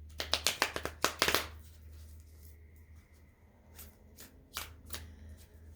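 A thick, sticky deck of tarot cards is shuffled up close, giving a quick burst of sharp riffling flaps at the start and a few softer card slaps later, with no talking.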